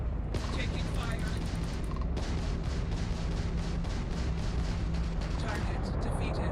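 Space combat gunfire in Starfield, a dense, loud, continuous barrage of rapid shots and booming impacts filling the whole stretch, with a voice speaking briefly underneath.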